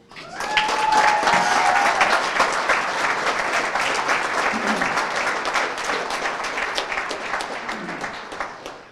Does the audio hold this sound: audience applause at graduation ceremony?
yes